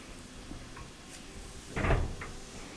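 A Samsung dryer front panel, set onto three bottom clips during an element repair, is closed up with a single firm plastic-and-metal knock and a short rattle, followed by a faint click, in a quiet room.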